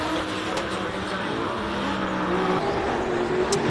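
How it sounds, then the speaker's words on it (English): Lotus race car pulling away at a hillclimb, steady engine roar throughout with a constant broadband rumble, crowd or commentary voices faintly underneath. "Another Lotus setting off."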